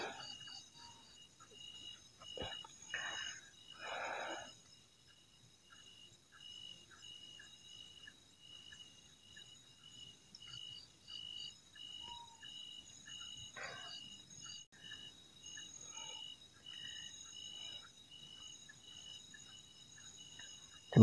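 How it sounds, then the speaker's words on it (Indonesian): Insects chirp in a forest, with faint high-pitched buzzing trills running throughout and a few brief calls and clicks standing out over quiet background noise. "dalam hutan ni, macam-macam lah kita boleh dengar. Banyakkan bunyi serangga,"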